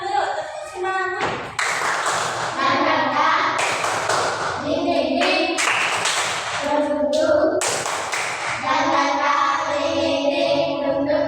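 A classroom group in Indonesia claps together in rhythmic bursts of hand claps and taps, loud and close, with voices, including children's, calling out between the rounds.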